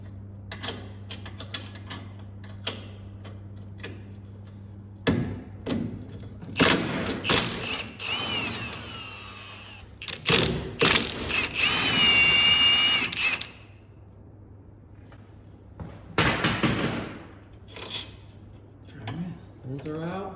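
Ratchet wrench loosening steering rack nuts on a BMW E36 Z3, with close, repeated ratcheting clicks in several bursts over a steady low hum.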